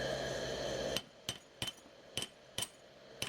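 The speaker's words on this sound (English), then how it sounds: "take a small hammer and just tap all the way around on the crucible" A small hammer taps a hard crucible from a mini glass-melting kiln about six times at uneven intervals, breaking hardened glass loose inside; each strike is sharp and rings briefly, after a steady background hum drops away.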